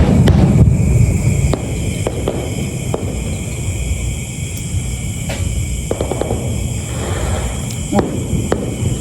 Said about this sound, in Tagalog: may fireworks pala